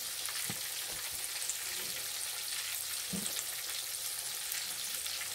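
Steady crackling sizzle of chicken wings frying in hot oil, a continuous dense hiss with a few soft pops and stirring bumps.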